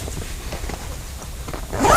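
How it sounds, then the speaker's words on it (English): A zipper on a case on a 2017 AOR Odyssey camper trailer is pulled steadily down along its track close by, a continuous raspy ripping that rises in loudness as it finishes. "Simple case, pull the zip down."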